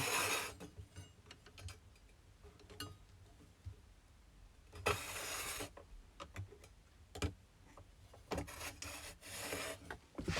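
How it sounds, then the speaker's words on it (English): Small screwdriver prying and scraping apart the housing of a 20-year-old Carrier furnace inducer fan motor during a bearing rebuild, giving a series of close metallic rubs, rasps and ticks with a few louder bursts, without talk. "get a little screwdriver in there"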